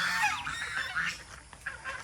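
A cluster of poultry calls, honking and clucking close by in overlapping bursts, with no talking.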